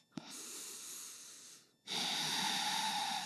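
Close, breathy airflow during a yoga pose: a long steady exhale, a brief pause, then a stronger hissing breath that continues to the end, with no talking.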